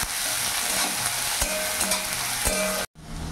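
Chopped onion fries in hot mustard oil while a spoon stirs it, a constant close sizzle punctuated by scraping strokes and clinks against the pan, ending in a brief cut to near silence.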